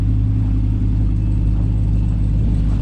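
A Dodge Charger Hellcat with a newly fitted aftermarket exhaust idles and revs with a loud, deep, steady rumble, close by and heard alone.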